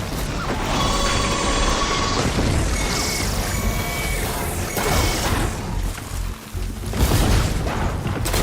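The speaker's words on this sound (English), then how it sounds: "Hey, big explosion! Watch out!" Explosion in the video game Horizon Forbidden West, loud booming bursts and crashing debris amid dense mechanical game noise, sustained and rumbling throughout with a short dip near the end.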